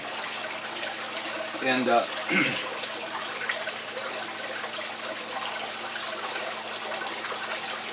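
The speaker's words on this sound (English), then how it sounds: "It's all water falling off of this whole thing." Water pours steadily across a grease table washing gravel for diamond recovery, a constant broad rushing wash throughout, with a brief spoken word near the start.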